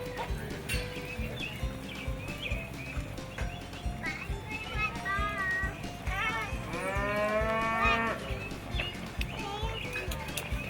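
Cattle moo loudly and repeatedly in a cutting horse arena, long drawn-out bellows rising and falling over a steady rumble, with hoof sounds and a commentator's voice running beneath.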